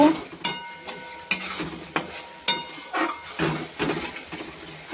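Spices for Bengali masala kosha are stir-fried in a pan, with a spoon scraping and clinking against the metal in a quiet, regular rhythm about every half second.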